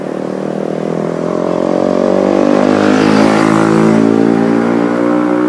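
A mining dump truck drives along a damaged village road in Probolinggo, East Java, its loud engine droning close by and swelling steadily as it passes.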